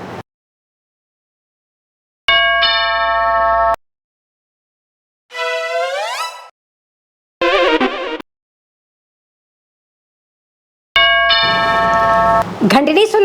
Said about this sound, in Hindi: घंटी नहीं सुनाई पड़ रही